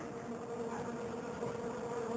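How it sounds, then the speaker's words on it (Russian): Bees forage on flowering barberry outdoors, giving a continuous soft buzzing hum that stays faint and steady throughout. "Цветет барбарис. Пчелы работают."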